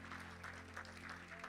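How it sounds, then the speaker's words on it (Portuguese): A church congregation claps together during a service, a faint, steady patter of many hands heard from a distance over a low electrical hum. "Os que podem, tome seu assento aplaudindo a Jesus"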